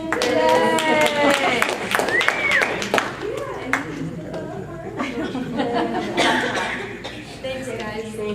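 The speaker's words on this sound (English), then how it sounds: "Here's your clap." An audience at a school presentation breaks into clapping mixed with chuckles and cheerful voices, lively and close, with speech overlapping the claps.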